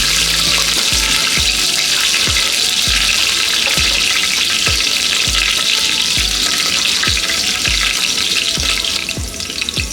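Slit green chilies dropped into hot ghee for ghee rice, a loud steady sizzle and bubbling hiss with regular soft thumps beneath, continuous and close, no voices.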